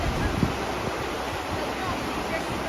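Strong wind buffets the microphone in the middle of a bridge, a steady loud roar with low rumbling gusts throughout.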